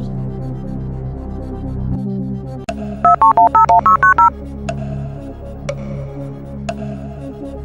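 In a Who Wants to Be a Millionaire game, a phone number is dialed: about eight quick touch-tone beeps in a fast rhythm, loud and clean, then scattered soft clicks over a steady low hum.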